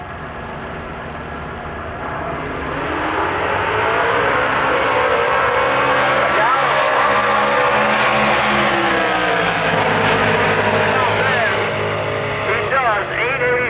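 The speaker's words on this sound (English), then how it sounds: "Richard Aldred, the great looking Yenko Nova over there" Drag racing cars, a Yenko Nova and a Copper Camaro, roar down the strip, engines swelling from a low rumble into a loud, sustained, revving howl with shifting pitch that holds to the end.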